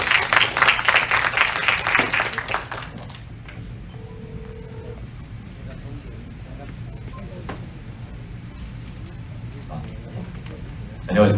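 An audience at a school teachers' workshop on remote classes claps to welcome a guest speaker, a brisk burst of applause lasting about three seconds that then fades into a quiet room with light rustling and soft ticks.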